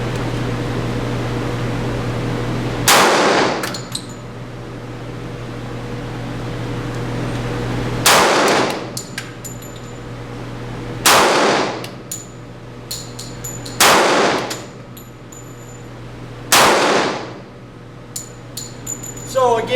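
Walther PPQ .45 pistol fired on an outdoor range from about 50 yards away: five loud, sharp shots spaced a few seconds apart, each with a brief echoing tail, over a steady low hum.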